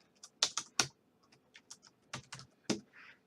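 Fingers typing on a computer keyboard while coding JavaScript, a quick irregular run of sharp close clicks and clacks with brief pauses, quiet overall.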